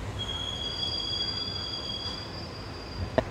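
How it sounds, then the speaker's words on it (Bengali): The 16116 PDY MS Express running just after leaving Puducherry: a low, steady rumble of rolling carriages under a sustained high metallic wheel squeal, with a sharp click near the end. "আমাদের train on time Puducherry station থেকে ঠিক 5টা 35-এ ছেড়ে দিল"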